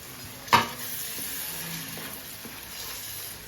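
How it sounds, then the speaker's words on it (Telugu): Tomato pieces hit a hot pan of browned aromatics for a Konaseema-style korameenu fish curry: one sharp clink at the start, then a steady close sizzle with soft stirring scrapes. "టమాటా ముక్కలు వేసేసుకుందాం."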